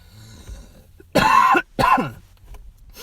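Two harsh coughs from a lingering illness, close to the microphone, one after another with a short pause between, in an otherwise quiet room.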